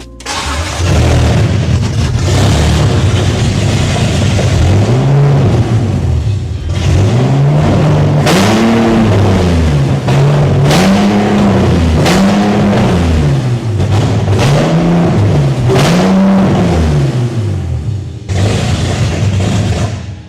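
A BMW E46 Clubsport with an S54 engine and no catalytic converters starts and then revs repeatedly, each loud, raspy throttle blip rising and falling over a rough idle, close by and alone.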